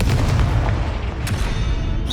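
A Confringo spell explodes in the video game Hogwarts Legacy. It gives a loud, deep boom with a rumbling burst and a sharp crack near the end.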